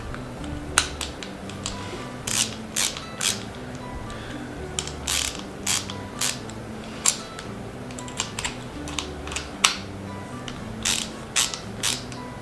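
A large handmade screwdriver with a pinecone and resin handle turns a screw, giving repeated short ratcheting clicks and creaks in uneven bursts, close and fairly loud against a quiet background with no talk.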